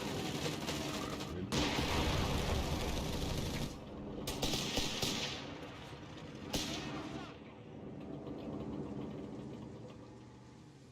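Artillery barrage in the strategy game Company of Heroes 3, dense rolling blasts and rumble with several sharp explosion bursts, loud and continuous over eleven seconds amid battle noise.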